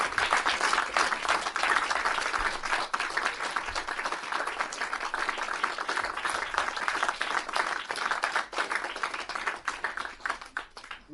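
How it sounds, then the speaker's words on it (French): An audience at a French participatory lecture-performance applauds steadily, a dense, lively wash of clapping that runs continuously for about eleven seconds. "Quand même un concours d'applaudissements pour Camille et l'équipe de l'Enfricheuse"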